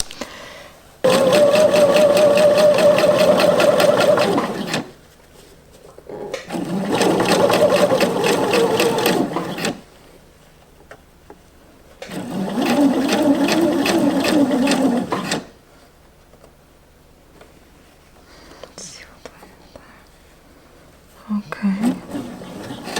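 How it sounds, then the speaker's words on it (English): Sewing machine stitching a garment lining, running in three sustained bursts of several seconds each with short quiet pauses between, loud and close, with no talking over it. "go on with stitching."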